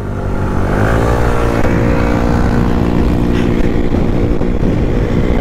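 A Honda Click 125i and a Mio Soul scooter run flat out at top speed, their engines droning loud and steady close by, with a rising rev as they accelerate and no talk.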